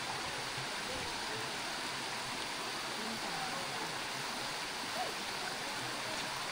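A river flows along a hiking trail on the way to Binacongan Falls, a constant, dense rushing wash of water heard up close with no break.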